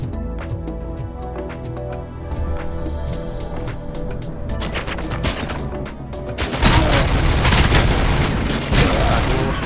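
Dense gunfire in the RoboCop: Rogue City video game: rapid bursts and booming shots layered over a soundtrack, building to a loud, continuous fusillade in the final seconds.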